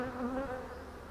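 Agitated honeybees buzz around an open hive during an inspection after two colonies were merged, a dense close droning hum with wavering pitch.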